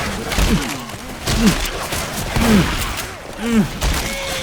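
Gunfire in the zombie shooter Left 4 Dead 2, with a shotgun in use: heavy blasts land about once a second over a dense, noisy game mix, loud and close, with no clear talking.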